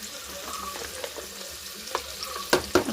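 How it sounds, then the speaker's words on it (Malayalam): Egg biryani ingredients frying in a pan while being stirred, a steady close sizzle with scraping spoon strokes and a few sharper clatters near the end. "നമുക്കിനി ഇളക്കി കൊടുക്കാം"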